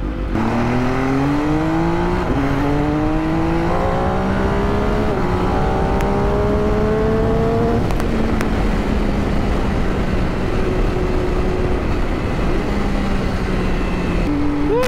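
Motorcycle engine on the road during a Visita Iglesia church-to-church ride, loud and continuous with the pitch climbing and dropping through repeated gear changes, wind rushing throughout.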